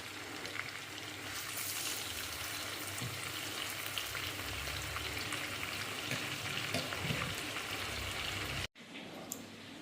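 Food sizzles on a low flame in a pan and is stirred now and then, giving a steady, moderate frying hiss that carries on evenly and breaks off briefly near the end.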